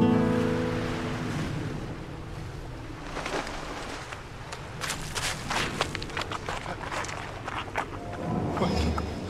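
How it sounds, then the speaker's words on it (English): Ocean surf on a desert island shore, a steady broadband wash with repeated breaking surges and rumbling low end, close and fairly loud with no voices. "the harumphing sound of the waves started to sound like a jet"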